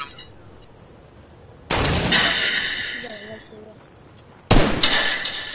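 Two sharp, loud bursts of gunfire ring out in a PS4 video game, each followed by a bright, ringing decay, with scattered chatter in the background.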